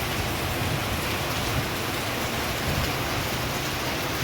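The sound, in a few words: rain falling in the hills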